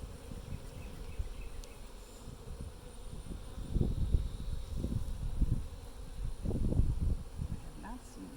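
Honeybees buzz around their hives in an outdoor apiary in Pilot Point, Texas, a low droning hum that swells and fades in several bursts as bees pass close by, with faint background noise.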